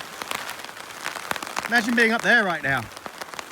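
Steady rain during a storm patters on a 4-season tent pitched at a car campsite, a continuous hiss under a voice speaking close to the microphone.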